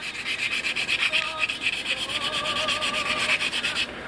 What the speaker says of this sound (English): I want to get in there and sand this before I do the bolt fit.